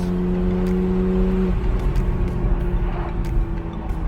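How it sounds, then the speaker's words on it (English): A 2015 Porsche 911 Carrera 4S with a flat-six engine gives a sustained, loud cabin drone as it revs under load, its steady tone shifting partway through, and no one talks. "it's just got that beautiful flat six that is just so enjoyable with these Porsches"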